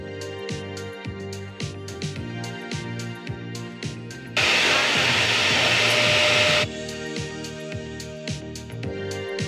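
A hair dryer fitted with a diffuser runs steadily at close range, a loud broadband blowing hiss holding for about two seconds amid rhythmic background music.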